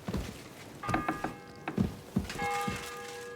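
A church bell in Kingdom Come Deliverance II rings out in a town, ringing tones sustained under a series of irregular thumps and knocks, with no speech.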